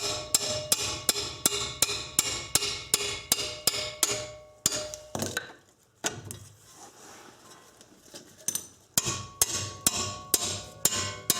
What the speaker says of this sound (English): Get yourself a good heavy hammer.